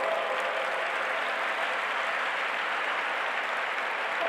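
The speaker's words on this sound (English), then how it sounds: "With a big round of applause" Sustained audience applause fills the hall at a G20 Interfaith Forum event in Pune, a dense, steady wash of many hands clapping at even loudness throughout, with no voices over it.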